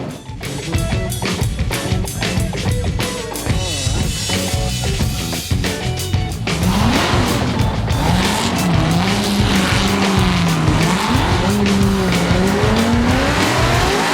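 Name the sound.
Formula Drift car drifting with tire squeal during qualifying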